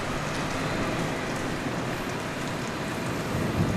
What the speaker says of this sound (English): you can see the rain dripping down on the wall here on the 6th floor of the parking garage